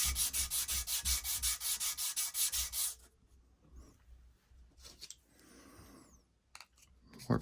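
Knife scales for a KnifeKit Stinger framelock are rubbed with 120-grit sandpaper in quick, regular back-and-forth strokes for about three seconds, close and loud, then give way to quieter scattered scraping and handling noises.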